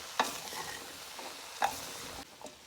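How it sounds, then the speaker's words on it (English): Yam, sweet potato and cassava get a good mix in a pot of cook-up rice, a soft stirring swish with two sharp spoon knocks against the pot, fairly quiet and close. "And we're gonna give it a good mix now"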